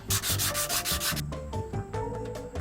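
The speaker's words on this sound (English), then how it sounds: "I'm just gonna start with sanding and see how it looks" Sanding on wooden corners to round them off, a harsh scratchy rasping in quick back-and-forth strokes, close up, that shifts to softer, lighter rubbing partway through.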